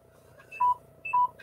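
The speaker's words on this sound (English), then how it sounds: "that's my phone again telling me that it's really died now" A mobile phone sounds its low-battery warning as two short, clear electronic beeps about half a second apart, standing alone over a quiet, faint background.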